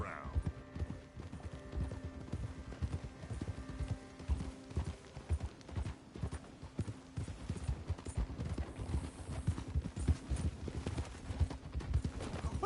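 Horse hooves clip-clopping in a video game, a steady, fairly faint rhythmic patter of hoofbeats continuing throughout with a brief rising tone at the start.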